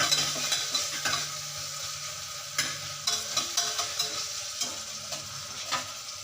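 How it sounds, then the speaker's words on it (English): Prawn biryani masala with cashew nuts frying hard on a high flame, a steady bright sizzle under repeated scraping stirs that come in a regular rhythm, close and moderately loud with no voices. "You keep on stirring the masalas, otherwise this will burn, because we have kept the stove in high flame."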